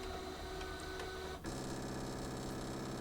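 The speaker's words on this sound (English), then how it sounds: "The mat moves in." A Brother ScanNCut DX cutting machine runs with a steady mechanical whir while feeding a fabric-loaded mat in, then shifts after a brief dip to a denser, continuous motor drone with rhythmic pulsing. No voices.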